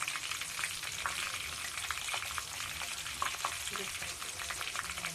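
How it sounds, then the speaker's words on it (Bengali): Onions sizzle and crackle steadily in hot oil in a home kitchen pan, a dense continuous frying hiss with occasional stirring scrapes, used for making homemade ayurvedic hair oil. "তারপরে আমি দেব পেঁয়াজ এই পেঁয়াজগুলো দিয়ে দিলাম"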